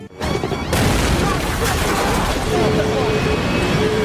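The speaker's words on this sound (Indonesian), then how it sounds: "keadaan semakin memburuk ketika mesin pesawatnya meledak" An airplane engine explodes with a loud boom that cracks out and gives way to a sustained, rumbling roar that stays heavy and dense to the end.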